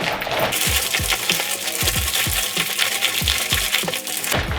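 Clothes being rubbed and scrubbed by hand inside a Scrubba portable wash bag, a steady rhythm of close squishing, crinkling strokes about twice per second, with water sloshing in the plastic bag.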